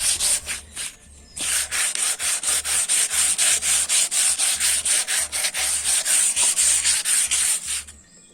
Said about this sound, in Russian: Теперь беру наждачечку и вручную так слегонца